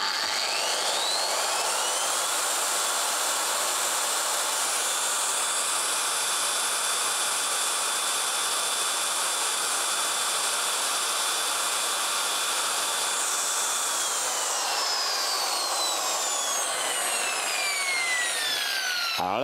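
A Rupes car polisher runs at speed setting 6, giving off a constant high-pitched whirring hum with a rushing, airy quality. It stays steady and close for the whole stretch, with slight pitch glides near the end, and no voices.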